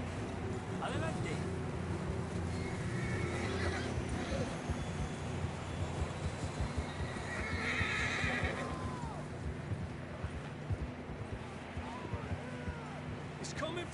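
Horses neigh and whinny amid steady clip-clopping hooves in Red Dead Redemption 2, with a continuous low rumble and occasional talk in the background.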